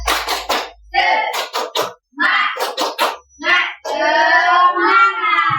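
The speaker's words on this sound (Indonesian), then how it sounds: "Kita ice breaking ya. Fokus semangat semuanya ya. Dipimpin oleh Anissa ya. Tepuk semangat." Children in a classroom perform a rhythmic 'tepuk semangat' clapping chant, sung voices alternating with sharp bursts of clapping, loud and close, ending in sustained chanted vocals.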